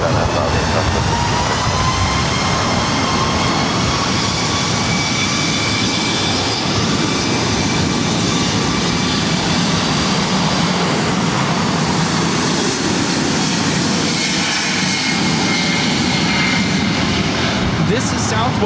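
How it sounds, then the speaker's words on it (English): A Southwest Airlines Boeing 737 MAX 8 takes off from LAX with a loud, sustained jet roar that fills the whole span, its broadband rumble steady and close, with a low background voice mixed in. "1634 taking off to Houston Hobby on the MAX 8"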